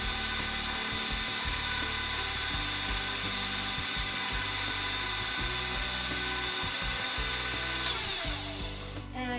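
Fresh arugula pasta dough passes through a hand-cranked pasta machine set one notch thinner, giving a continuous close grinding, ratcheting rattle that fades near the end.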